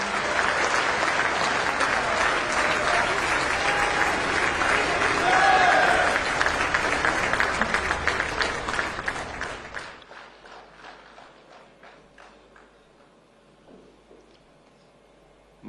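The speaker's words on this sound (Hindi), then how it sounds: "प्रधानमंत्री श्री नरेंद्र मोदी जी को आइए उनके प्रेरणादायी संबोधन के लिए तालियों के साथ विनम्र निवेदन करते हैं." A large audience at a Vibrant Gujarat event applauds loudly in a sustained wave of clapping that fades after about ten seconds to scattered claps and quiet hall ambience.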